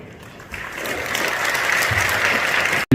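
Church congregation at a joint prayer meeting breaking into applause, starting softly and swelling within half a second into loud, sustained clapping from many hands that fills the room, then cutting off abruptly.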